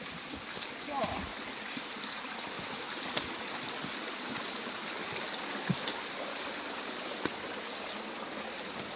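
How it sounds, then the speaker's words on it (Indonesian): Steady rush of a river stream flowing below a mountain trail on Puncak Walanda, a broadband wash throughout with scattered faint footsteps and brief clicks near the microphone. "Tuh lihat di bawah saya apa, sungai."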